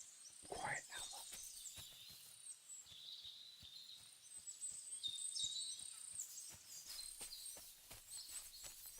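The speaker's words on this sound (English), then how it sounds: "It's so peaceful. Just listen to the birds." Birds chirp and sing in the Kingdom Come: Deliverance II video game, a quiet scatter of repeated high calls over soft ambient clicking, with a person talking at one point.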